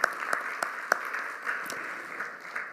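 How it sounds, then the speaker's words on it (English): An audience at a school district event applauds steadily in a large room, a faint, even wash of many clapping hands with a few sharper claps standing out. "Let's give our schools a big round of applause."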